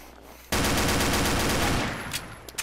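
Gunfire in the video game Combat Arms: a dense, loud automatic burst runs for over a second, followed by a few scattered single shots as it fades.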